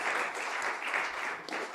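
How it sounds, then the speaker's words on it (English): A seminar audience gives a short burst of applause, steady and fairly faint, with no voices over it. "Can we give them some applause?"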